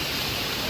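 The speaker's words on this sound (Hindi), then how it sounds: "ये जो झरना है बहुत ही खूबसूरत है" Waterfall on the Amarnath Yatra mountain trail near Shesh Nag, a steady broadband rush of falling water filling the short moment without pause, close and loud with no voices.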